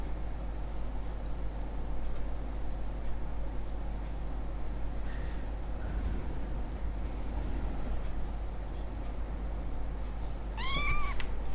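Cats meowing in the video game Minetest: a few faint meows near the end over a steady hiss and low hum, with no talk.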